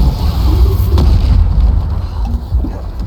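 The Bombarda spell exploding in Hogwarts Legacy: a loud, heavy, low booming blast that rumbles continuously for a few seconds, with faint crackling debris on top.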